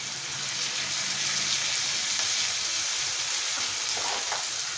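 Curry leaves crackling and sizzling in hot oil for a Telugu pachadi, a dense, steady frying hiss with small pops near the end, close and alone without talk.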